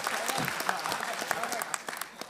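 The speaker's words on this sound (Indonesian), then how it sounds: "Boleh tepuk tangan buat saya sekarang ya." Audience applause during an Indonesian stand-up comedy show, a short burst of dense clapping, fairly faint and close to steady, with a voice audible underneath.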